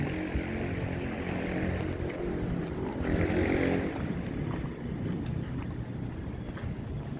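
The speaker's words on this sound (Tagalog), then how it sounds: "Lakas na hangin." Strong wind buffets the microphone in a constant low rumble, swelling briefly in the middle, with no voices heard.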